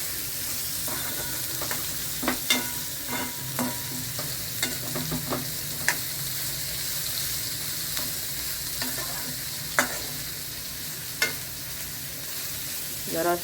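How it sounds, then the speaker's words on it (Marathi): Vegetables fry and are stirred in a pan over a lowered flame, a continuous sizzle broken by scattered spatula scrapes and sharp clinks against the pan, with no voices. "परतून घेतली की सोपी जातात पटकन शिजतात त्यामुळे परतून घ्यायची इथं मी फ्लेम बारीक करते"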